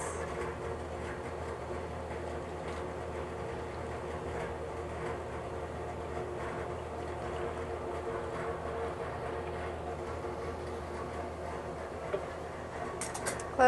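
An ice cream batch freezer running with its hatch shut, a steady mechanical whir and hum that holds evenly throughout, close and moderately loud.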